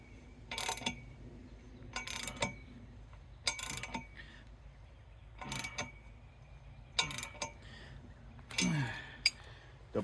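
A ratchet tightens a bolt on a cedar driveway gate post, giving about six short bursts of quick clicking separated by pauses, close and moderately loud outdoors.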